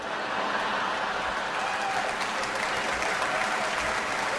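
Sustained audience applause at a stand-up comedy special by Lewis Black, a steady, dense wash of many hands clapping throughout with no break and no voices over it.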